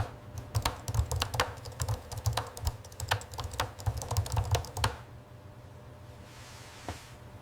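Steady keyboard typing, with quick clicky keystrokes at an uneven rhythm over a low hum, stopping abruptly and leaving quiet room tone with one faint late click.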